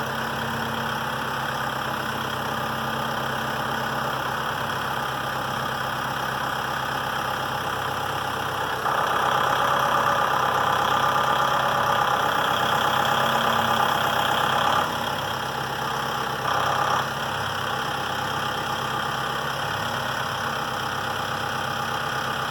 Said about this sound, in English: Crank up the old Massey. Old but new, she's a great tractor though.